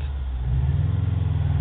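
Upgraded 300-plus horsepower 2009 Subaru WRX turbo with ECU tuning and turbo-back exhaust, its engine droning loud and steady at close range, a low rumbling tone that swells slightly partway through, with no talking.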